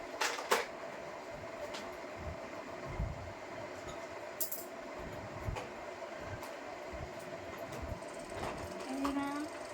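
A small battery-powered magic top spins with a faint, steady whirring hum and scattered light clicks and taps, close but quiet.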